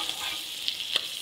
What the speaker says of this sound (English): So you saute that briefly.